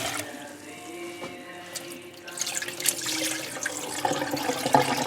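Cold tap water runs into a bowl of rice as fingers swish the grains, a steady trickle that swells into louder splashing and sloshing partway through, fairly close and with no voices.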